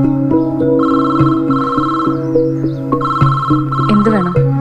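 A telephone rings loud and close in a household scene, a steady melodic electronic ring tone that repeats in two long bursts with no one talking over it.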